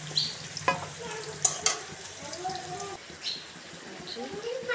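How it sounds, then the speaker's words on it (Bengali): Cut potatoes fry in a pan in a home kitchen, a faint, soft sizzle with occasional sharp clicks as a voice talks over it. "আলুটাকে কেটে সুন্দর করে ভেজতে দিয়েছি।"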